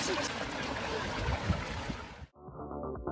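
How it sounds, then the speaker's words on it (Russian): Rushing water pours out of a deep hole, flowing and splashing steadily, then cuts off abruptly, replaced by quieter background sound. "что из нее льется аж так много воды?"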